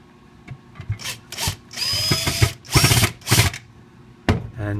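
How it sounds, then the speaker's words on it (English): Power drill whirring in several bursts, rising and falling in pitch as it drills out metal rivets on a pop-up camper trailer's chain, with short pauses between runs. "So you want to drill these two rivets out."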